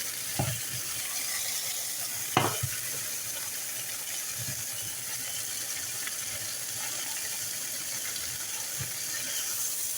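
Chicken sears in a skillet with a steady, close hiss that runs the whole time, broken by a few light clicks and taps of the pan or utensil.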